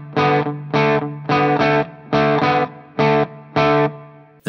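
A heavily distorted electric guitar plays a riff in repeated chopped bursts: short chords broken by brief pauses, loud and close, with no voice.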